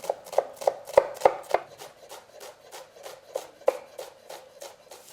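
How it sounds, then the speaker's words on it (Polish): A knife dicing an onion on a board in quick, steady strokes, about three per second, close and crisp with no talking. "Cebulę pokrój w kostkę"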